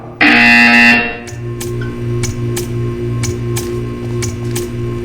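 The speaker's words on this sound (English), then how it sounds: "You will hear a buzzer." A harsh, loud electronic buzzer in the video game Portal 2 blares for about a second, then gives way to a steady ticking rhythm over a low mechanical hum.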